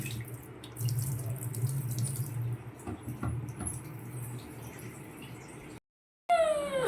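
Water runs from a tap into a sink with a steady splashing rush, then cuts out abruptly before a brief sharp squeak.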